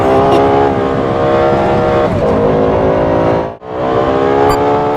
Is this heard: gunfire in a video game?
no